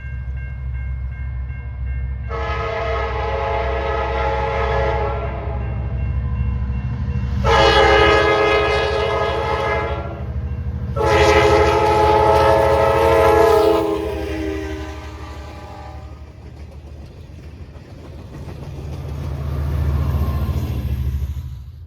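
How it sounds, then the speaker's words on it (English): An Amtrak passenger train sounds three long horn blasts as it throttles up out of Salisbury station, its engine rumbling and building, the heavy drone swelling again near the end. "Amtrak 72, with the same set as Amtrak 71, throttles up out of its station stop in Salisbury"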